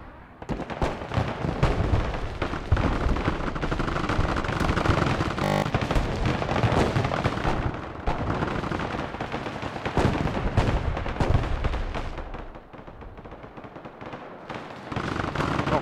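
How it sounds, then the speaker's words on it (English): Cruise missile strikes and artillery fire in the strategy game Broken Arrow, a long stretch of heavy overlapping blasts and rumbling explosions, dense and sustained, easing slightly near the end. "He's firing fucking cruise missiles at everyone."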